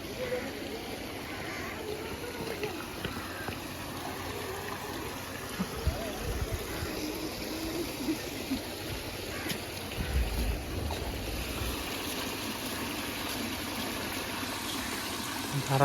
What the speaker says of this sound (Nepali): धारा रहेछ यहाँ चाहिँ